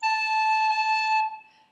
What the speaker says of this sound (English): So here's an A roll.